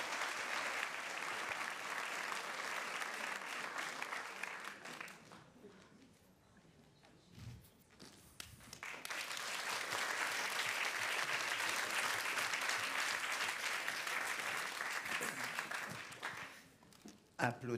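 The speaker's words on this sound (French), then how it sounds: "Applaudissements prématurés." Applause from an audience at a French literary reading, arriving early before the reader starts. Sustained clapping fades to near quiet midway, then swells again strongly and dies out at the end.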